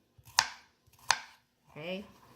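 A knife chops vegetables for pakbet on a board, two sharp close cuts spaced apart, followed by a brief spoken voice.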